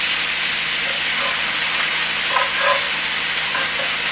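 Ground beef browns and sautés in a pan with a steady, loud broadband sizzle and hiss, and a few faint crackles pop through the continuous frying sound.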